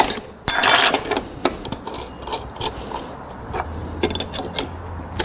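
A ratchet lift table is raised with a mechanical rattle and clicking pawl, punctuated by a few sharp knocks, close by in a workshop.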